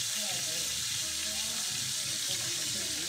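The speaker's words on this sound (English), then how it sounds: "We just want to do a light sear on this side." Goose pieces searing in a hot pan, a steady bright sizzle with soft crackles and faint stirring underneath, close and moderately quiet throughout.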